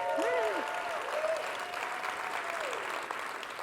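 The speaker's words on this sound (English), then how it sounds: "let's give them a round of applause" Audience applause at a startup accelerator demo day, steady clapping throughout with a faint tonal whistle or feedback line drifting above it.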